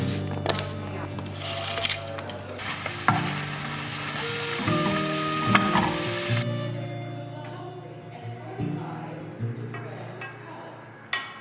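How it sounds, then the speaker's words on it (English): Steady frying sizzle with occasional clinks and scrapes of a pan, heard close up, with some voices and kitchen movement in the background. "while it's sizzling"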